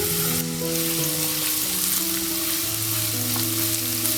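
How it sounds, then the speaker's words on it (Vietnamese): Minced shallots fry in a spoonful of cooking oil in a pan, giving a steady, close sizzle and crackle that runs unbroken from start to finish with no voices. "Thêm vào một thìa dầu ăn và phi thơm chỗ hành tím băm."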